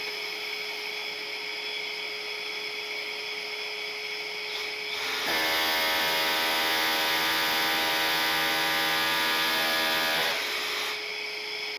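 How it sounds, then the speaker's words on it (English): A power drill bores a hole into a wall during an EV charger installation, a steady whine lasting about five seconds after a quiet background hum, then stopping. "drill these holes that are marked on the wall"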